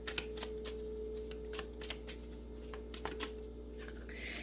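Crystal Visions Tarot cards are shuffled by hand in a quiet room, a soft, fast series of riffling flicks and slaps over a low steady hum, with no speech.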